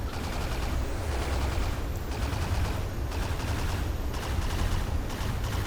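Dense, rapid cannon fire from a video-game gunship's side-mounted guns rattles continuously, a thick roaring barrage of overlapping shots with a heavy low rumble that never lets up.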